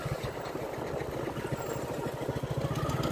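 A tractor engine chugging in a traditional village in Ambedkar Nagar, Uttar Pradesh, with a steady, rapid thumping knock, fairly close and continuous, with no talking.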